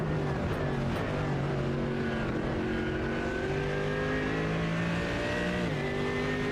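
GT3 race car engine heard on board in the iRacing sim at Bathurst, a loud continuous drone with pitch climbing steadily through the gears and a brief dip near the end.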